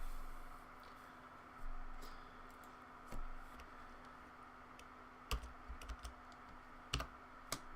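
Keys tapped on a computer keyboard in a quiet room, a few soft isolated clicks and then a short burst of quicker keystrokes, faint over a low electrical hum.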